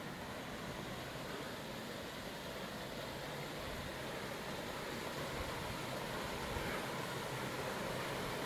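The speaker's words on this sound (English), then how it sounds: "and the sound of water." Flowing water along the Darwin Falls trail makes a steady, even rush of broadband noise that holds at the same level throughout, with no voices over it.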